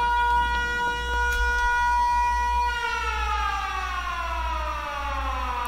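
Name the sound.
low power alert siren in the video game Factorio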